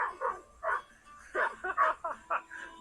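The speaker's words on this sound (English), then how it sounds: "Sam's mom is a Texas cow dog, so it's in his blood to round them up." A Texas cow dog barks in short, sharp bursts while herding cattle on a ranch, several quick barks close by with brief pauses between them.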